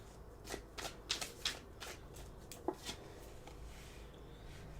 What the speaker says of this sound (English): Get a card for this 2 of Cups.